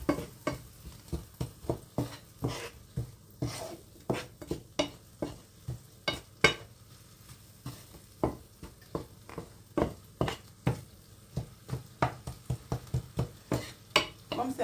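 Chicken with mushrooms and cream is stirred in a pan with a utensil, giving repeated soft scraping strokes and light clinks in an irregular rhythm over a quiet, low sizzle.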